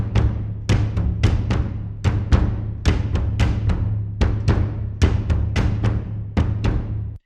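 Low percussion layer of a game music track, heard alone: punchy, evenly spaced hits in a steady driving rhythm, each with a sharp attack and a short decay over a sustained low tone.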